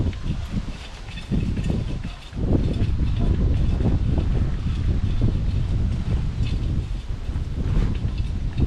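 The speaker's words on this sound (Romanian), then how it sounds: "Ce bine adie vântul?" Wind blows through a polytunnel vegetable garden in autumn, a steady, broad rushing and flapping noise with gusty swells that keeps up throughout, fairly soft overall.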